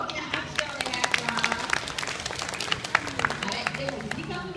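Audience applause at a science museum ASIMO robot show in Japan: steady scattered clapping from a crowd throughout.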